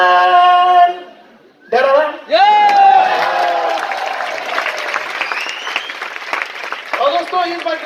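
An audience bursts into strong applause, loud clapping that swells after a short dip and carries on with cheers and whoops over several seconds, with a voice speaking over the start and end.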